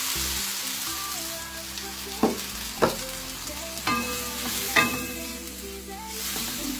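Fermented mustard greens being sautéed in a pan, a soft continuous sizzle punctuated by several sharp spoon or spatula clacks against the pan.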